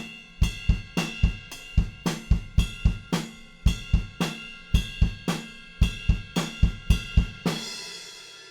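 Drum kit playing a ride cymbal groove, with regular kick and snare hits and a couple of extra kick drums near the end, closing on a crash; loud, close and without voices.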